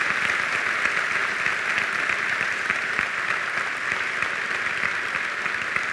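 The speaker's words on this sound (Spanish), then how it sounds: "Agradecemos con este aplauso más fuerte, por favor, al profesor Uliens por su ponencia" Conference audience claps for a speaker, a steady even patter of many hands heard at moderate distance, fairly soft and continuous throughout with no talking.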